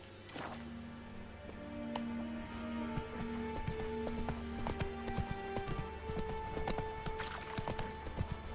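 Horse hooves clip-clop steadily in The Witcher 3, a continuous rhythmic trot of close hoofbeats layered over sustained tonal game music.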